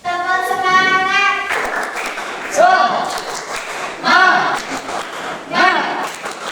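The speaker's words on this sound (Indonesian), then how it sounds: "Ayo berdiri dulu. Tepuk semangat." A classroom of children stands and performs rhythmic spirit clapping (tepuk semangat), with bursts of patterned claps alternating with sung or chanted voices and a sustained vocal tone at the start.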